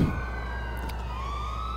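Police car sirens in GTA IV with the LCPDFR mod, a steady wailing tone that slowly rises in pitch over a constant engine-like rumble, continuous and fairly loud with no talking.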